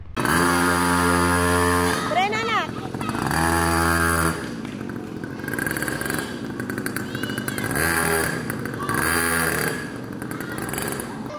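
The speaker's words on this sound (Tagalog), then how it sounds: "pinasusubukan na nga namin tong biniling motor kung kakayanin nga ba siya neto" A motorcycle engine revs repeatedly nearby, buzzing up and down in pitch as it pulls away and returns, with people talking over it.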